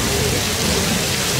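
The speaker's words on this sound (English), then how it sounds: "We have a severe thunderstorm right over the top of us." Heavy rain pours steadily in a severe thunderstorm, a dense, loud hiss with low rumbling beneath, continuous and close throughout.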